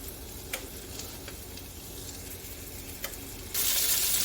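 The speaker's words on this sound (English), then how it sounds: "we're going to let that simmer on medium-high until it gets a sear, a nice sear on each side" A rump roast sears in a pan over medium-high heat, giving a steady broadband sizzle with a few faint ticks, which swells louder and brighter near the end.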